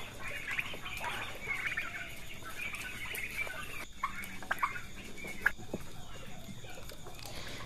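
A pen full of turkeys on Pak Yuni's farm gives off a steady chorus of overlapping clucks and calls, moderately loud and close, with scattered sharper cries throughout.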